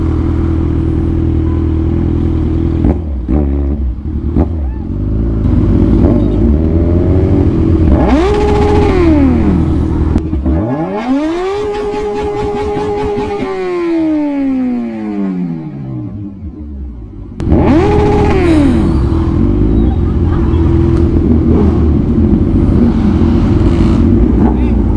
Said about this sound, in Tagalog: Ganda ng motor, oh. ZX-10R.